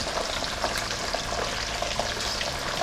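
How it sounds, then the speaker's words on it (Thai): Beef pieces frying over high heat in oil for Thai sun-dried salted beef, a steady dense sizzle with small crackles running throughout without talk. "ใส่เนื้อลงไปทอดเลยนะครับ"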